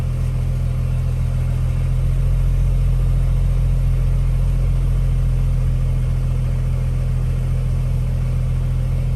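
A BMW 335i's N54 engine, warmed up and with an air-fuel ratio problem, idles steadily and loudly up close, a deep, even low hum and rumble with no revving or voices.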